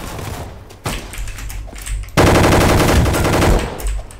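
Rapid automatic gunfire in the Roblox game Gunfight Arena, loud close bursts of rattling shots, one short burst then a longer sustained stream, no talk.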